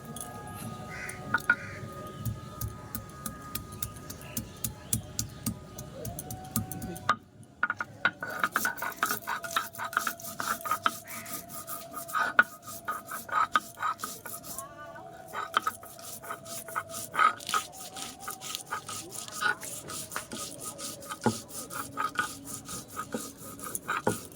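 Mustard seeds, four green chillies and a little ginger ground together into paste for a Bengali sukto, a steady run of rhythmic rasping, scraping strokes, close and continuous with brief pauses, and no talking.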